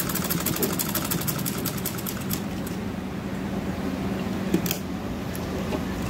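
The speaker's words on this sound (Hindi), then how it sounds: "अब हमें इस पर सिलाई लगा लेनी है।" A sewing machine stitches along both sides of a cloth face mask made from leftover fabric, running as a continuous, even mechanical whir with a fast repeating rhythm, close and steady throughout.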